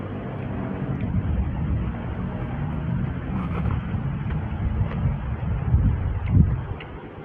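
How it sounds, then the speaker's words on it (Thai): Strong wind buffets the microphone outdoors in a steady, loud low rumble with gusty swells, continuing without a break and with no voices heard. "ลมพัดแรงมาก"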